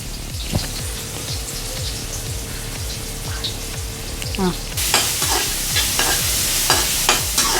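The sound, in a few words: onion frying in ghee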